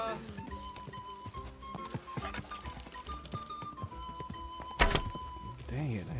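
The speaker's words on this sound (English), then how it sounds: "Dang it, I hit the post again" Horse hooves clip-clop steadily while riding in Kingdom Come Deliverance 2, with one loud wooden thunk as the rider strikes a post, over a continuous musical tone and a voice speaking.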